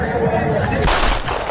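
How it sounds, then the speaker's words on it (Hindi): Gunfire rings out in front of a police station in Haryana during a gang shooting, heard as a short burst of sharp reports against crowd noise and voices, captured close and loud. "गोलियों की गूंज से इलाके में अफरा तफरी मच गई"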